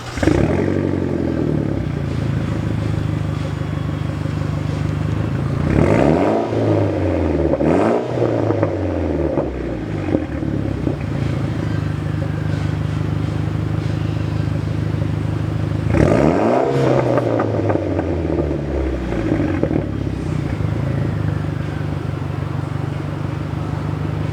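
A Mitsubishi Evo on a test drive after a tuning visit, its engine humming steadily nearby, with two strong revving surges as it accelerates through gears, alone without talk.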